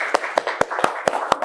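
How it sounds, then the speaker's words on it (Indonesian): Clapping in a school classroom, heard as six sharp, evenly spaced claps in a quick rhythm, close and distinct over a low murmur of background noise. "Oke, tepuk tangan dulu."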